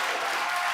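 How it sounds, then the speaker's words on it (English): Esports crowd at an ESL Pro League CS:GO quarterfinal between NaVi and Heroic cheering and applauding, a dense steady roar with no break across the brief moment. "The Glock finally finishes off Cadian, and the crowd like that one."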